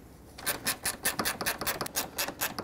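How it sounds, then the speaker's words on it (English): A ratchet tightens a radiator bolt on a 2009-2014 Ford F-150 with a steady run of quick rasping clicks, close up and fairly quiet, with no talking. "I'm just gonna use my ratchet to tighten it."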